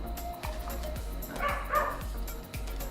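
A dog barking at night indoors, a few short yips and barks at moderate distance over a steady background hum, fairly faint.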